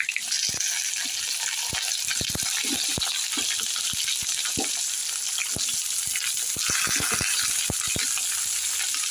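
Steady, loud sizzling of eggplant frying in hot oil with garlic, with sharp pops and crackles scattered throughout; no voices.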